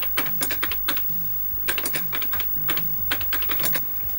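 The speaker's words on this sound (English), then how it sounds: "it's definitely quicker to type on that than it is on the original rubber keys" Quick typing on a Saga Emperor replacement keyboard fitted to a retro home computer, a close run of crisp key clacks in uneven bursts with brief pauses between words.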